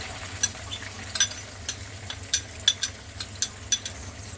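Chopped onion fries softly in oil for a prawn bhuna, a faint low sizzle under repeated sharp metallic clinks of a utensil against the pan.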